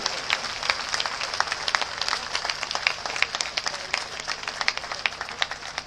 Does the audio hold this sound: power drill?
no